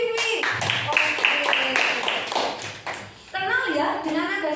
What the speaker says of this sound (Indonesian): Tepuk tangan untuk Vivi